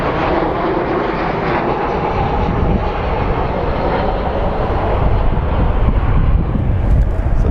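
A Southwest Airlines jet at Phoenix Sky Harbor airport roars steadily with a loud, broad engine rumble that holds constant throughout, heard alone without voices.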